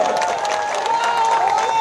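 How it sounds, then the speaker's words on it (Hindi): An election rally crowd claps and cheers to welcome candidate Rajesh Nagar, a dense, continuous roar of applause with a voice rising over it. "एक बार तालियों में कंजूसी ना करें"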